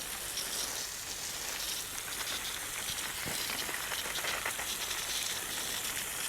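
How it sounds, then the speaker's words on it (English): A steady, even hiss of water spraying hard from a garden hose, continuous throughout with no pauses. "this hose works really good for high pressure, or higher pressure should I say"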